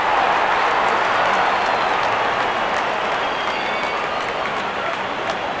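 A cricket crowd applauds a batsman reaching his fifty in an India versus South Africa match, a broad, steady roar of clapping and cheering that fills the stadium at constant loudness from start to finish.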